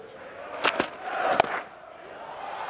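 A cricket crowd at Trent Bridge roars as a six sails into the stands. Shouts and cheers swell briefly in a loud burst, then settle into a distant murmur.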